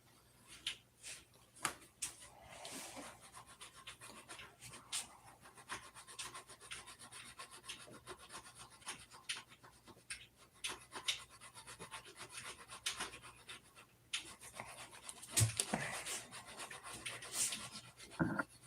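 Filing by hand to enlarge holes about two sizes up so parts can be epoxied on, a steady run of soft rasping strokes, close and moderately quiet, with a few louder scrapes near the end.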